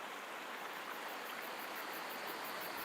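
A river flowing at the far end of a park near Niort in the Deux-Sèvres gives a steady, broadband rushing wash, even and continuous, with no voices over it.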